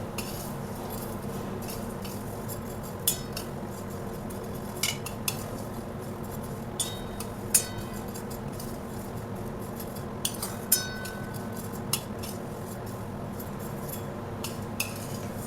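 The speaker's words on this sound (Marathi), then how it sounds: "मध्यम गॅसवरती आपल्याला शेवई छान अशी इथे भाजून घ्यायची आहे।" Vermicelli dry-roasting in a kadhai over medium gas, stirred with a metal spoon that clinks and scrapes against the pan at irregular intervals over a low steady background, fairly quiet and close, no voices.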